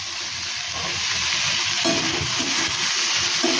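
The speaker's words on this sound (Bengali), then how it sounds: "ভাজা হচ্ছে।" Food sizzling and being stirred in a pan on a home stove, with soybeans and flattened rice being prepared; a steady, loud hiss of frying runs throughout, with scraping stir strokes underneath.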